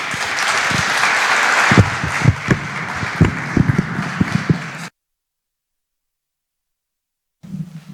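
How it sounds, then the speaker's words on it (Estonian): Audience applause for Miikael Raihelgaus, seminary development head, at a university anniversary seminar: steady dense clapping, then a few louder distinct claps as it tapers, followed by silence and faint sound at the end. "Nii et teeme Miikaelile aplausi."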